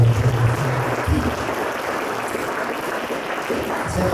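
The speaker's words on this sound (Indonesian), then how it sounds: "Beri tepuk tangan dulu dong." An audience at a public university lecture applauds, a steady wash of clapping from many hands that holds evenly throughout, with no speech over it.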